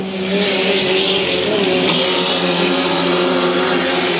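A 2.5-litre racing hydroplane's engine roars loudly and steadily during a heat at a Valleyfield race, with a high, strained whine held across the few seconds and no voices.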